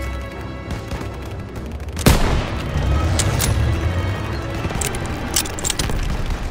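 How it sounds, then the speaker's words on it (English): Gunfire and a heavy boom in the World War II shooter game Call of Duty: WWII, with one sharp loud blast followed by a rolling wash of distant shots and rumble. "They're taking fire from behind!"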